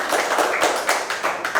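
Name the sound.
audience applause at a political rally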